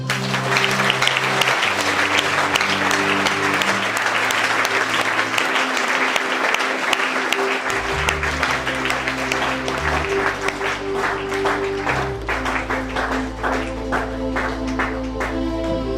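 A church congregation applauds steadily through a service, dense clapping continuing the whole time beneath loud sustained music with shifting bass chords.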